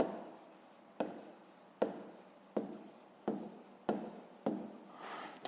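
A pen writes in a notebook in repeated strokes, each starting with a sharp tap and trailing off in a scratch, about seven in a steady rhythm, close and quiet with no talking.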